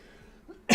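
A person's single loud cough bursts out at the very end of a short, otherwise quiet stretch, close to the microphone.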